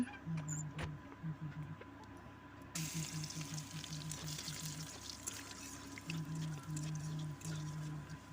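Garlic sizzles softly in hot mustard oil in a pan with dried red chilli, giving a low steady crackle and hiss with a faint repeating tone, no talking.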